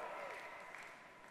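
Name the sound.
audience clapping at a conference talk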